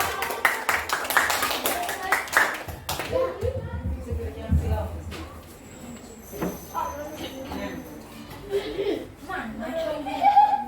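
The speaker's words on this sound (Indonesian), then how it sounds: "Dipersilakan tepuk tangan untuk kelompok 4." A room of people claps for presentation group 4 at a school lesson, a burst of dense clapping in the first few seconds that fades into chuckles and overlapping talk.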